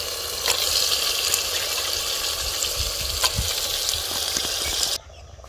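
Pieces of chicken hiss and sizzle loudly in a hot pan for a village-style curry, steady close frying with scattered clicks and scrapes of stirring, cutting off abruptly near the end; no one speaks.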